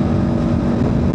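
A Kawasaki Ninja 500 motorcycle cruising in sixth gear, its engine a loud, steady close-up drone with wind rumble and no pauses.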